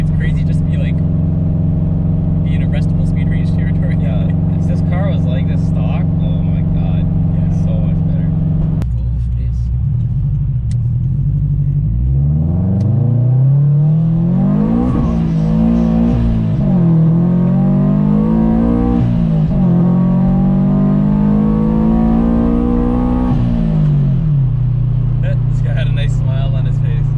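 A boosted Subaru BRZ accelerates hard, the engine note climbing through repeated gear pulls after a steady drone, loud from inside the cabin while occupants talk throughout.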